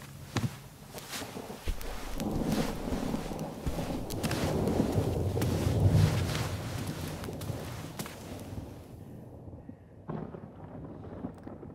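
Thunderstorm with rain in the video game White Night: a continuous rumbling wash with rolling thunder swells and crackling bursts, fairly loud and building in the middle, then dropping away sharply before a brief rumble returns.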